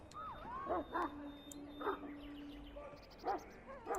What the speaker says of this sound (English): You're quite lucky to have your own Mabari warhound, you know.